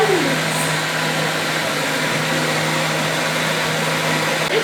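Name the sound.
grinder grinding hide and seek biscuits for banana ice cream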